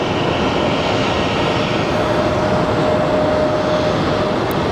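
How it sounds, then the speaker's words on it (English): A United Airlines Boeing 737 jet at Phoenix Sky Harbor airport on a rainy day, heard as a steady, loud broadband engine roar that holds constant throughout, with no talking. "We have, I believe, our United 737."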